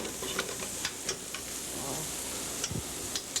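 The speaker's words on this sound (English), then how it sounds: "let that spinach cook. You want the flavor of that onion and butter in there" Spinach cooking down in onion and butter in a pan for chicken Florentine, giving a soft, steady sizzle with light stirring scrapes and a few faint ticks throughout.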